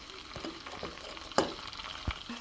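Chopped onions fry in hot fish oil in a pan, a steady close sizzle broken by several sharp crackles and stirring clinks.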